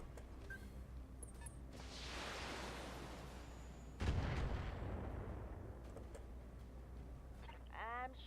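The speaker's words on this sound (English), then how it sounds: "Firing all weapons." Mech weapons firing in the BattleTech video game, heard as two heavy booming artillery-like blasts with long rumbling decays, the second louder, over a low steady drone, with radio-style game voices around them.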